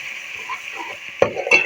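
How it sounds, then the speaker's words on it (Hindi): Onions frying in a pan with a spoonful of garlic ginger paste added, a soft steady sizzle with a couple of brief stirring scrapes near the end. "इस टाइम पे आगे हम ये लहसुन अदरक का पेस्ट जो है 1 टीस्पून ये शामिल करेंगे और 30 सेकंड तक इसकी भुनाई करेंगे।"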